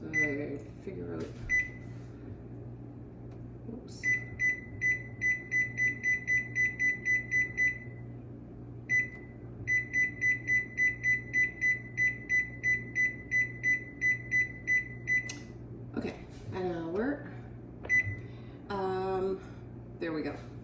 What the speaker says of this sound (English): put the timer on for an hour